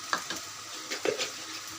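Vegetables with peas and a little turmeric frying in oil for noodles, a soft steady sizzle broken by a few scraping stirs in the pan, close and moderately quiet.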